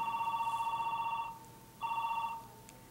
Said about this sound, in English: Wait till that telephone stops ringing.